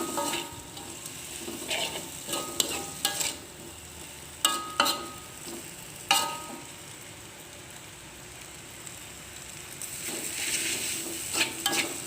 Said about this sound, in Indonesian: Kita masukkan ke dalam wajan yang berisi bahan-bahan yang lainnya sudah kita tumis. Kita aduk-aduk sebentar.